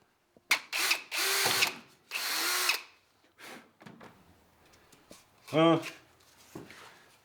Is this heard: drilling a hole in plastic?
yes